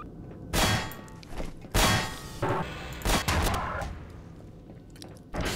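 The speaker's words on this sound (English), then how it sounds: "Seems someone may have lit a bomb off." Several loud blasts and clanging impacts in Garry's Mod, bursting at irregular intervals over a few seconds with metallic ringing between them, close and with no voices.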